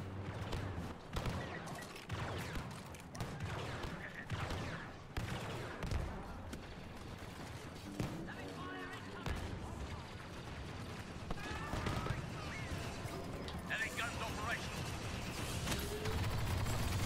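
Rapid turret gunfire rattles in bursts through a Star Wars Battlefront II battle, dense and sustained, mixed with explosions and game effects while a player talks over it.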